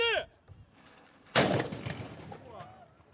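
A replica 17th–18th century cannon fires a single loud boom that rolls and echoes outdoors, preceded by a brief shout and faint crowd noise.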